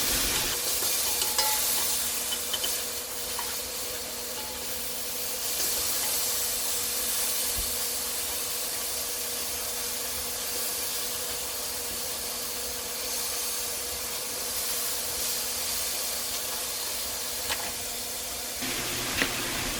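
Stew meat searing in a cast iron pan, giving a steady broad sizzle and hiss that runs unbroken, with a few faint clinks and no talking.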